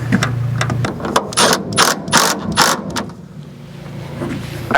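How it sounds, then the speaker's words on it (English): An impact wrench with a 1/2-inch socket snugs up bolts on a roll-up bed cover on a 2020 Jeep Gladiator, a few sharp rattling bursts of ratcheting hammering close up, then a quieter mechanical hum. "So you're gonna want a 1/2-inch impact socket. And just snug it up a little bit"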